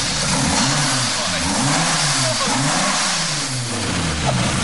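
A car engine with its exhaust removed revs loudly and roughly, with a raw, unmuffled growl that rises and falls in repeated pulls, close by and continuous.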